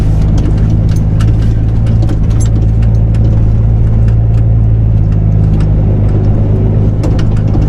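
A semi truck's diesel engine pulls with a steady, continuous drone as it accelerates evenly along a snowy winter road. The low rumble stays constant and close throughout, with faint road noise above it and no talking.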